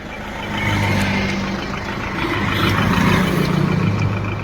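A tempo truck's engine runs steadily at a fixed spot, a low droning hum with a few tonal bands that holds at an even loudness throughout, with no talk over it.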